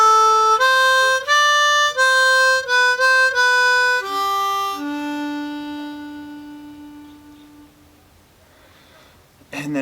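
A harmonica in G plays a short melodic line, a run of clear blown notes stepping down to a final 3-hole blow that is held and slowly fades, played alone and up close.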